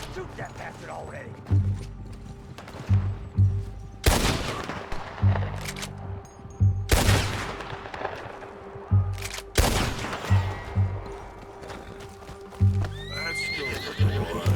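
Gunfire rings out in the video game Red Dead Redemption 2, with three loud, sharp shots spaced seconds apart. Rhythmic horse hoofbeats, neighs and mechanical clicks continue underneath.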